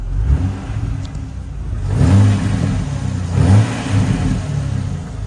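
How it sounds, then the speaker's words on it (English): A Jeep Wrangler engine revs twice, rising and falling with a deep exhaust note between steadier idling stretches, close and fairly loud with no talk. "I'm going to rev up the engine a little bit so you could get a feel for the exhaust note"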